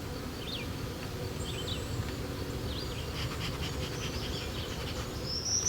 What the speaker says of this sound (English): some of the bees came in and covered the brood and they wouldn't leave, but the swarm moved into the box